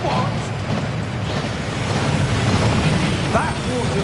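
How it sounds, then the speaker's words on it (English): Waterfall in the video game Hogwarts Legacy, a steady broadband rush of falling water that stays constant and fairly loud throughout, with faint voices underneath. "That waterfall washes away all enchantments."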